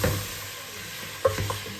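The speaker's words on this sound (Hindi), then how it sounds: "तकरीबन 2 चमचा लेके हम इसको अच्छे तरीके से भूनेंगे।" Nihari masala being fried and stirred in a pan with a spoon, giving short scraping stir strokes over a faint sizzle, with a sharper scrape about halfway through.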